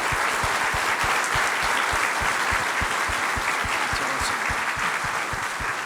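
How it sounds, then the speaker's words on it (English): Sustained, loud applause from an audience at a West Texas legislative summit fireside chat, greeting a new commander, Colonel Norton, and his team. Dense clapping fills the whole stretch evenly, with no talk over it. "Let's give Colonel Norton and his team a round of applause."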